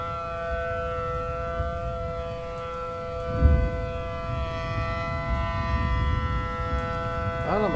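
Loud, steady wailing civil defense siren in a Roblox game runs throughout, with a brief thump near the middle and a rising sweep at the end.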